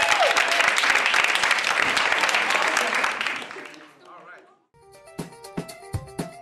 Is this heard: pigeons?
no